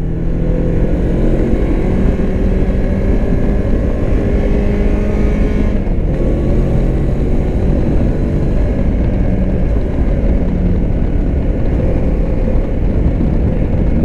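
Moto Morini X-Cape 650X adventure tourer motorcycle ridden onboard, a steady loud engine drone with wind rush throughout, a brief dip near the middle, no talking.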